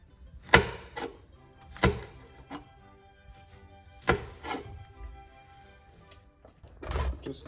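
A knife chops through washed vegetables on a cutting board, with a few sharp, separate strikes spaced a second or more apart, close and fairly quiet.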